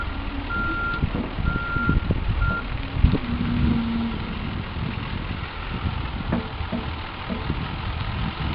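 A truck's reversing alarm beeps in a slow, even series over its idling engine, close by and moderately loud, with no talking.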